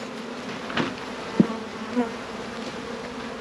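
Honey bees swarm densely over a hive frame pulled from a two-deep box, a steady low buzz with a few louder individual bees zipping close to the microphone.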